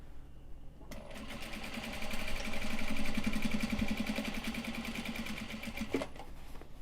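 A sewing machine top stitching Japanese fabric starts up after a quiet moment, then runs in a steady, moderately loud rhythmic whir that speeds slightly midway and stops near the end.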